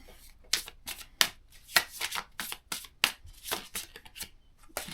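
A deck of cards is shuffled and a card pulled, with rapid close riffling bursts and crisp flicks of card stock in a quick irregular rhythm, no talk.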